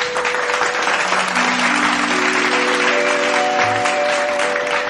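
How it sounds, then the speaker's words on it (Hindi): Loud, steady clapping from an audience fills the hall after a singer is introduced at a stage music program, with sustained keyboard tones ringing underneath throughout. "जोरदार करताली"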